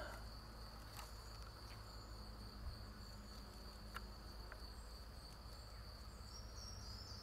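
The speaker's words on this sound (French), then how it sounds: "Aussi, là, beaucoup de sauterelles." Grasshoppers in a flowery meadow produce a steady, continuous high buzzing drone throughout, faint and even, with a few soft clicks and no voices.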